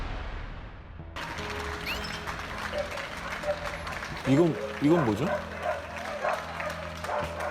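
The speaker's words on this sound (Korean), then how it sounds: "토요일 낮 12시마다 박수 물결이 이어지는 이유" Crowds applaud from apartment balconies in locked-down Italy, cheering medical staff during the COVID-19 outbreak. A broad wash of clapping runs through most of the moment, mixed with a dog barking and a voice speaking over it.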